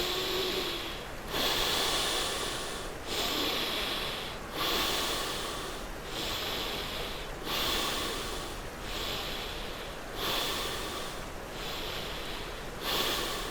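Slow, deep breathing during a yoga session for office workers, close and soft, with a steady rhythm of long breaths repeating about every one and a half seconds, each airy hiss rising and falling.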